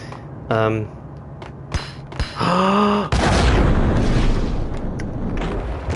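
A grenade in the Max Payne video game goes off as one loud, sudden blast with a deep rumbling tail that lingers for a few seconds, preceded by a few shorter game sounds and a groaning voice.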